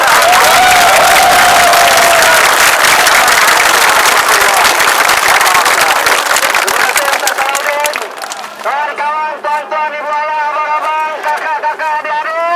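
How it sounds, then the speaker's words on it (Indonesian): A large crowd at a gathering for Datuk Seri Anwar Ibrahim bursts into loud, dense applause and cheering for about eight seconds, then thins out as voices take over. "Sebagai penutup, saya mohon kepada seluruh yang hadir untuk memberikan tepukan yang paling gemuruh untuk Datuk Seri Anwar Ibrahim."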